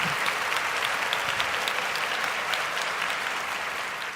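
Hands clapping in a quick, steady patter of sharp claps that carries on evenly for a few seconds, fairly close and with no voices over it.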